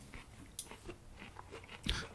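Cold canned corn kernels crunched in a few brief, close chewing bursts with short pauses between, ending on one sharper crunch, no speech.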